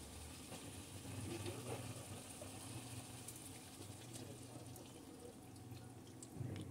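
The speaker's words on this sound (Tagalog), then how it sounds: "Ayan, lalagay ko na yung coconut milk." Coconut milk pours into a pot of Filipino pork caldereta, giving a steady, faint liquid trickle over a constant low background hum.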